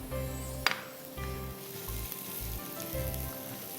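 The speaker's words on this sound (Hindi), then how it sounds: "प्याज ब्राउन नहीं करिएगा, सॉफ्ट करिएगा," Onions soften in a pan for a cream spinach dish, giving a soft, continuous sizzle at moderate level, with one sharp clink early on and no speech.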